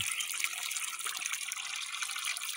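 Water from a solar water pump gushes hard in a steady, hissing rush that pours continuously throughout this brief stretch.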